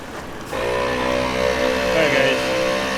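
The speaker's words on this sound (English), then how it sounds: "we just turned the compressor on. Currently airing all 4 tires at once" A portable air compressor inflating four truck tires at once starts up after a brief pause, then runs as a loud, steady droning hum with a buzzing tonal edge that holds to the end.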